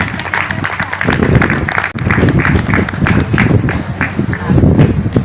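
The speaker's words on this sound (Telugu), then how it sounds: "సో మరి ఒకసారి గట్టిగా మళ్ళీ చెప్పట్లు." A live audience at an Ugadi festival gathering near the Peravaram pyramid claps loudly for a children's performance, dense continuous applause with sharp individual claps, close and sustained for several seconds.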